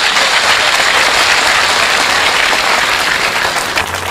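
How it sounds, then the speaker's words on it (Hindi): A live audience at a Hindi comedy and poetry show breaks into loud, steady applause welcoming a satirical poet to the microphone, dense clapping filling the whole stretch without talk before easing slightly at the end. "जोरदार तालियों से उनका इस्तकबाल की।"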